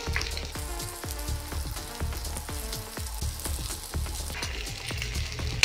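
Onions and mashed potato with green chilli frying in a pan, a steady close sizzle and crackle with scraping stir strokes, no voices over it.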